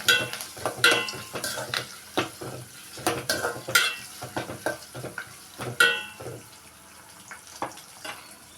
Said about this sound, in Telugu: పచ్చిమిరపకాయలు ముక్కలు వేగనియ్యాలి.